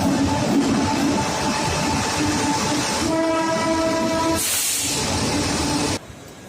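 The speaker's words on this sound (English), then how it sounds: "now we are at the Chennai railway station." Trains at Chennai Central railway station platform, a continuous loud rumble of rolling stock with a long sustained horn tone in the middle, then a hiss of air before the noise cuts off; no talking.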